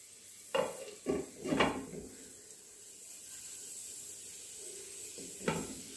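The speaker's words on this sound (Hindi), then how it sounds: "बीच बीच में मैं सब्जियों को चला लूंगी और फिर से इन्हें ढक दूंगी" Vegetables stirred in a cooking pot for mixed dal sambhar, several distinct scraping stirs and clinks in quick bursts over a quiet low sizzle, no voices.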